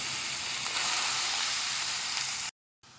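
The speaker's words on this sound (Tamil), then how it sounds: "இப்போ நான் வெங்காயத்தை ஆட் பண்ணி வதக்கிக்கிறேன்." Onions sizzle steadily in a pan with dried anchovies for a radish and anchovy gravy, a close, loud, even frying hiss that cuts off abruptly near the end, then resumes briefly.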